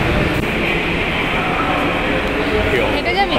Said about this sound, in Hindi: एंड शायद हमारा मेट्रो भी आ चुका है शायद, यस आ गया हमारा मेट्रो